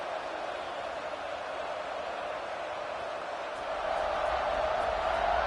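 A stadium crowd roars in a College Football 26 video game before a kickoff against Tennessee, a dense, steady wash of cheering that swells slightly louder toward the end.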